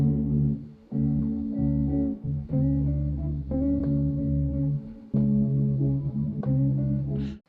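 Gospel sample chops run through a low-pass filter cutting off near 235 Hz in a 90s boom bap flip: muffled, bass-heavy chord stabs repeat in loud sustained phrases with brief gaps between them, and no talking.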